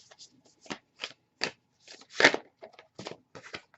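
Tarot cards being shuffled by hand in quick, crisp riffling bursts, close and quiet, with short pauses between handfuls.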